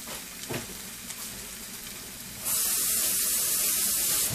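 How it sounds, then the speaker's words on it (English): Loud steady sizzling of food frying in a hot pan, a broad hiss that jumps up suddenly partway through and holds constant. "And if everything goes well, we should hear a sizzle."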